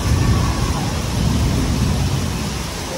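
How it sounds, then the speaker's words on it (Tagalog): Steady heavy rain pours outdoors during a thunderstorm with lightning, a dense continuous wash with low rumbling thunder underneath, loud and close throughout with no voices. "Kumikidlat pa par, nakakatakot."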